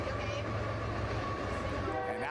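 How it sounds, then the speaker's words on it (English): Train rolling past the right field wall of a baseball park, a steady loud rumbling drone with metallic rail noise throughout, while a commentator talks over it. "Train rolls by the right field wall here at the net."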